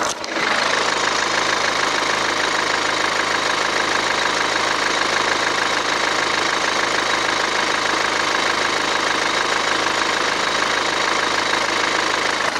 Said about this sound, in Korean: 엔진 소리 한번 들어보겠습니다